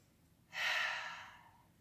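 One slow, audible exhale during a yoga session, rising quickly and tapering off over about a second as a soft, breathy sigh in a quiet room.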